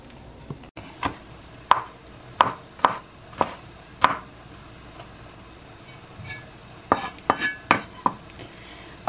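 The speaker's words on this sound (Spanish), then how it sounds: "Mientras tanto vamos a picar el jitomate, la cebolla, el chile" A knife chops tomato, onion and chili on a board in sharp, close thuds, one at a time and in short quick bursts, with pauses between.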